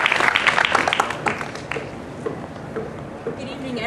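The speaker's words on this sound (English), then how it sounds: "I want everyone to give a big round of applause for Rania Sabah for her courageous act." Audience applause at a university event welcoming a speaker on Syria, a burst of clapping that quickly thins to a few scattered claps fading under a quiet room.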